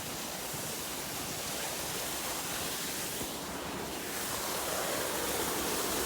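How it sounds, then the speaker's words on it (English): A small winter waterfall pouring out of ice on a mountain trail, a steady broadband rush of falling water, even and continuous with no pauses, close by, and nothing else heard over it. "Ooh, a little bit of a waterfall."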